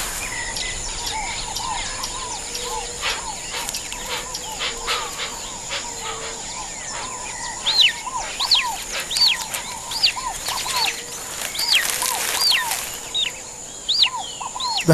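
A hoatzin mother returning to her chick in South American wetland forest gives repeated rising chirping calls, with a fuller chorus of calls building partway through over a steady insect hum.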